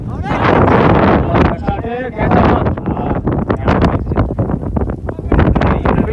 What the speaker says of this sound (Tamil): நல்லா காத்து.